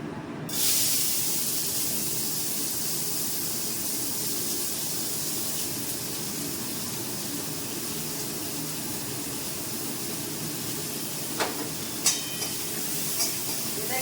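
Panch phoron spices sizzle in hot oil for a bitter gourd dish, a sharp, steady hiss lasting throughout, with a few faint clinks near the end.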